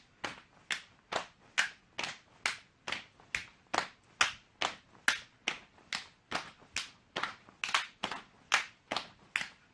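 Sharp overhead hand claps land about twice a second in an even rhythm during a set of jumping jacks in an exercise session, loud and close, with no talk.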